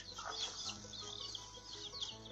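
Chickens at feeding time give soft clucks and rapid, high chirping peeps. The calls are faint and fairly close, with a low steady hum underneath.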